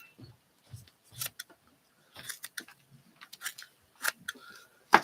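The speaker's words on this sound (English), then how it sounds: "Let me cut off this excess real quick here." Scissors snip through excess quilting fabric in a few short, crisp cuts spread across the moment, close and fairly quiet, with light handling noises between them.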